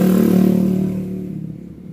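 Yamaha Jupiter 180cc motorcycle engine revved hard in neutral, a loud close rising-then-falling engine roar with strong low harmonics that fades as the revs drop back over about two seconds.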